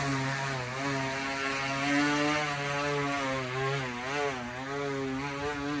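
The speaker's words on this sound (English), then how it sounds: "Listen to that hoverboard engine roar, like a Jaguar, like a vintage Jag." A hoverboard's engine-like roar, steady and loud, with a tonal drone that bends up and down in pitch and runs on alone throughout.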